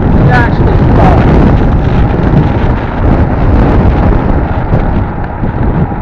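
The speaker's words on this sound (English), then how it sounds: "it is getting very windy up. There's a storm coming in." Strong wind ahead of an incoming storm roars and buffets the microphone in a loud, continuous rush, gusting unevenly throughout.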